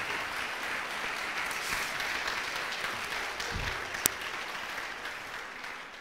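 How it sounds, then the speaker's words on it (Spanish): A church congregation claps together in steady, broadband applause that holds evenly throughout, fairly distant and diffuse, with a brief sharp click near the end and no voices. "Dele un aplauso al Señor y a José."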